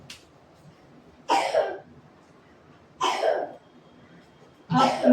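Coughing set off by flour (maida) dust in a home kitchen while cooking white sauce pasta: three harsh, evenly spaced bursts, close and fairly loud, with quiet gaps and no talking.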